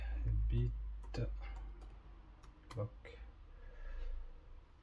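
Typing on a computer keyboard while cloning a Samsung 980 Pro NVMe SSD: soft, uneven key clicks in short bursts, quiet and close, under someone talking.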